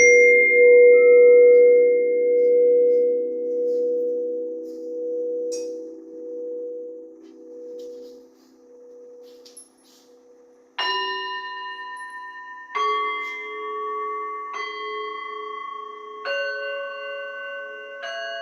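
Crystal bowls ring out with a long sustained hum that slowly fades, then several bright, clear struck tones follow one after another, each lingering and overlapping.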